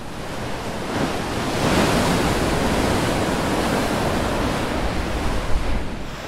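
Rough sea surf pounds the beach at Alghero under strong wind, a loud, dense, continuous roar of breaking waves and gusting air with no voices.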